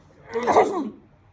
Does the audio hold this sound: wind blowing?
no